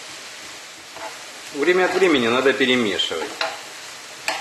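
Vegetables frying in a pan for Ukrainian borscht, a constant hiss of sizzling under a voice speaking, with faint stirring scrapes.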